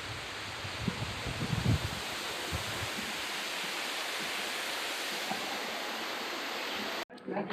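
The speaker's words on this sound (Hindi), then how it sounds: "ऑडिटोरियम से वाटरफॉल का एक विहंगम व्यू लेते हैं।" A waterfall at Nek Chand's Rock Garden in Chandigarh, seen from an open-air auditorium, gives a steady broadband rush of falling water that holds nearly constant for about seven seconds before cutting off abruptly.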